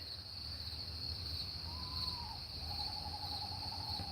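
A bird calls once with a long, drawn-out note, then a second lower one, over a steady chorus of night insects.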